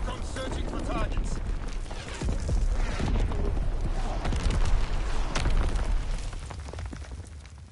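Enemy bomb blasts in a video game, a continuous loud rumbling barrage of explosions and bursts, with game voices talking over the noise.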